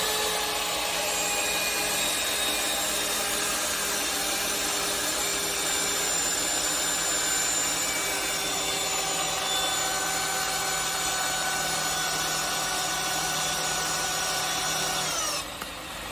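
A lathe cuts a screw thread, giving a steady, loud mechanical whine with tonal hum that runs without a break for about fifteen seconds before changing slightly near the end.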